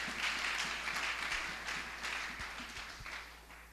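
A church congregation applauds together, a steady wash of many hands clapping at moderate distance that holds throughout and fades slightly toward the end.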